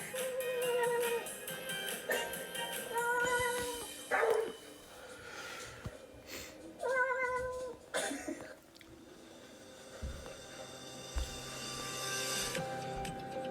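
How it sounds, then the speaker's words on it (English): A cat meows several times in short bursts, close and fairly loud, with quiet gaps and some background thumps and rustling between the calls. "Meow, meow, meow."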